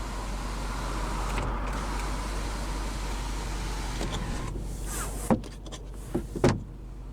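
A power sunroof in a 2009 Dodge Challenger SRT8 hums as its motor runs for a few seconds inside the quiet cabin, followed by a few faint clicks and soft knocks as it stops.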